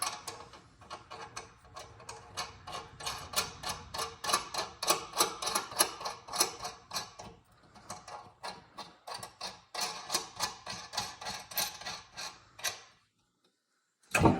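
Nuts being tightened on a Denali Pro Series snow plow assembly, giving a long run of rapid metallic ratcheting clicks in bursts, with a short pause partway through and a sharp knock at the end.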